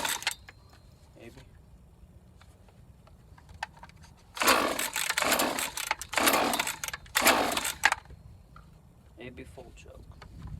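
A small lawn care engine with a primer bulb, set to half choke, sputters through several loud bursts of cranking and brief firing between quieter gaps. Faint background sounds fill the pauses.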